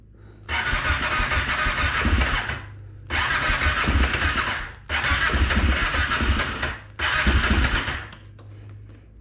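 A Brute ATV fitted with snorkels is cranked on a cold engine in four separate bursts of about two seconds each, the starter churning loudly with short pauses between attempts.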